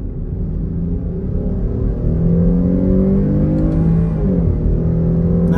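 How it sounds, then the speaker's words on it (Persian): A Jeep Grand Cherokee accelerating with the gearbox in manual mode, a loud, close, steady engine drone with rising tones through the run and a brief dip partway, heard alone with no talk. "حالا دنده رو میذارم رو حالت دستی، روی این حالت باید خودم دنده عوض کنم"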